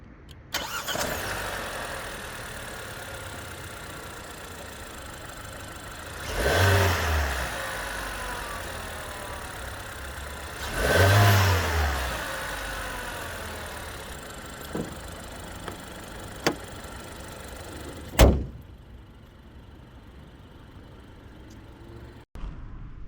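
A BAIC Beijing 5 SUV engine runs steadily with two brief revs rising and falling, followed by a few sharp clicks and then near silence.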